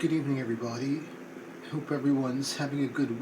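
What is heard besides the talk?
No everyday noise stands out behind the speech.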